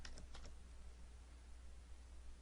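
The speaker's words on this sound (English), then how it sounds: "let me do it in by typing, not by copy and paste" Brief keyboard typing, a few quick clicks near the start, then faint steady background hum with no further keystrokes.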